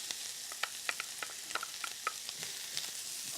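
Spicy ham sizzles steadily in a skillet while being stirred, a soft continuous frying hiss broken by small irregular scraping clicks from the utensil.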